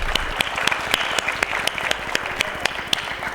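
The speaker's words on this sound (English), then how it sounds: "Please give him a round of applause." Audience applause for a stage presenter at a broadcasting conference session, a steady dense wash of clapping with sharp individual claps standing out, sustained and fairly loud throughout.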